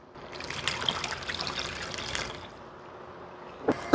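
Water splashes and trickles into a pot for dried pollack broth, a continuous pour lasting about two seconds that tapers off, followed by a brief clatter at the end.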